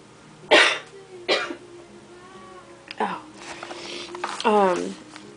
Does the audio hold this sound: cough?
yes